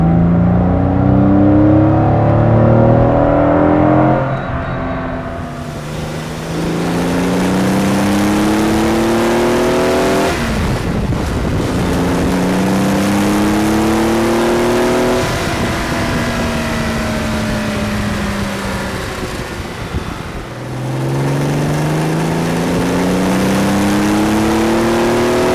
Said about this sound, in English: It certainly booms through the cabin, that exhaust.